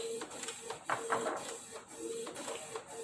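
A laser printer running a smart toner cartridge, for models such as the 810, 811, 740 and 741, prints steadily with a mechanical whir and a few rhythmic clicks and feed pulses, close and continuous.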